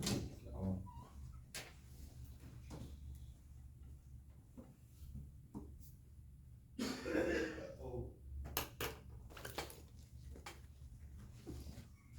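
A few harsh coughs break out during a classroom maths lesson, one near the start and a stronger fit in the middle, with murmured voices and room noise around them.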